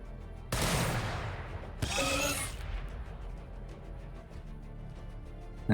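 Volleys of gunfire in the Warhammer 40k Battlesector strategy game, two loud dense bursts close together near the start followed by quieter scattered mechanical clatter and distant shots.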